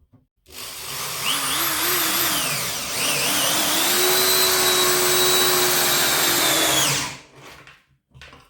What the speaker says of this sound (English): Now let's test the limits. Have these larger and thicker screws.